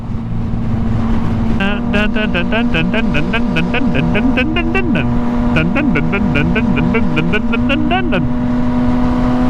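A motorcycle cruises at around 30 mph, its engine holding a steady, close drone throughout while someone talks loudly over it.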